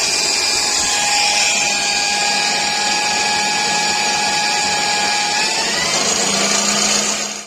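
A handheld electric drill runs continuously at high speed in a garage, a loud steady whine that holds for several seconds before pitch shifts slightly near the end.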